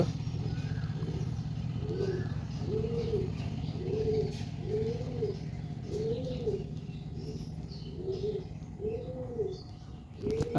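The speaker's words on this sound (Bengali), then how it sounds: "এই যে যেটা এসছে এটা হলো মাদি পায়রা আর এটা হলো নর পায়রা" Giribaz pigeons coo close by in a regular run of soft, rolling calls, about one every second, over a constant low background hum.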